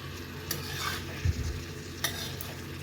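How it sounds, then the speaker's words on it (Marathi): Chicken liver fries in hot oil in a pan, stirred with a spoon: a steady sizzle runs throughout, with a few sharper clinks and scrapes of the utensil against the pan. "आता आपल्याला तेलात परतून घ्यायचं आहे व्यवस्थित."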